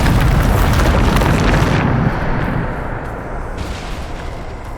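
A Bombarda spell blast in Hogwarts Legacy erupts as a loud, dense explosive roar that rumbles on before thinning into a lower, fading tail, with no talk over it.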